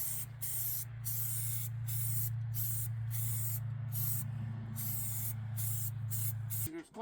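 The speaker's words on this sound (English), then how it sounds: "Hitting it with some primer." Rapid bursts of spray from an aerosol can of primer, hissing in short pulses over a steady low hum, close and fairly loud.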